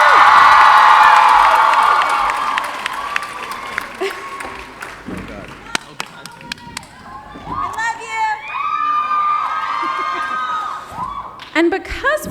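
Fans at a Teen Wolf Comic Con panel scream and cheer loudly, then fade as a presenter talks over the hall. Shrill whoops and screams rise again near the end.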